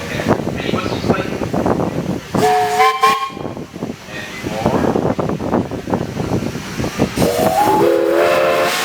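Loud steam whistle on a J.I. Case steam tractor at a steam show, sounding in several sustained blasts over a busy outdoor crowd and engine noise, with people talking throughout.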